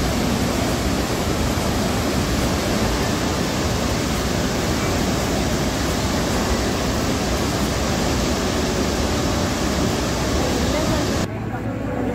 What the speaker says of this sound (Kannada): The amazing view of Atirapalli waterfalls, which is called as the Indian Niagara.